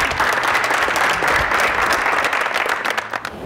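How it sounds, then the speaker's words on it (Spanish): An audience at a televised talent-show audition in Gualeguaychú claps loudly and steadily, a dense close wash of applause that eases slightly near the end, with no clear speech. "Fuerte el aplauso para todos."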